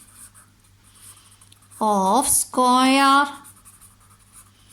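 A marker or chalk writes an equation on a classroom board for a mensuration lesson. The strokes are faint and come in two short bursts, while a teacher's voice with sung-like tones dominates.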